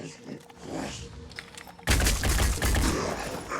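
Pistol gunfire in Phoenix Point erupts halfway through as a loud burst of overlapping shots and impacts, following a quieter stretch of game ambience and clatter.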